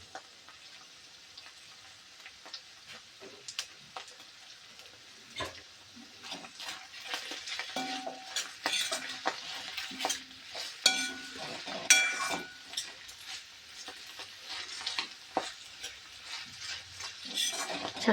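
Boiled kuda flowers stirred with salt in a pan, a spoon scraping and clinking against the metal in irregular bursts over a faint sizzle, close and moderately loud, with no talking.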